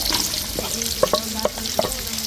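Garlic and carrots sizzle steadily in a hot pan, with a spatula stirring and scraping in several sharp, close knocks over the continuous frying hiss.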